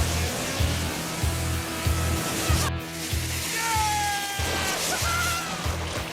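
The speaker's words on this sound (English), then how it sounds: "This is two-stage rocket on the surfboard." Two-stage rockets fire on a surfboard with a steady roaring hiss over a pulsing low rumble, a brief cutout midway, then a second surge with rising whistling tones, near and loud.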